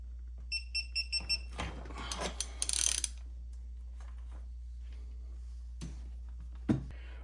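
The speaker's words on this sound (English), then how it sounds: "that beeping noise was it exceeding the torque that I had it set to last time I used it" Digital torque wrench beeping an alarm on exceeding its set torque: a quick run of five or six clear, evenly spaced high beeps, followed by ratcheting clicks and mechanical clatter, then quiet with a few scattered clicks.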